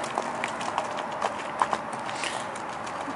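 Horse hooves clip-clop at a steady, light rhythm on firm ground, several distinct footfalls close by as the horse moves, with no talk over them.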